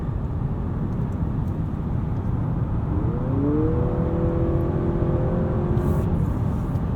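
A 2023 Honda Accord cruising along a smooth California back road, steady broadband road and engine hum with a faint rising whine partway through, continuous and close from inside the cabin.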